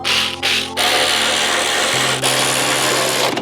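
An Ingco power tool loosens car bolts, a loud, close, steady whirring grind with brief interruptions and a change in pitch partway through.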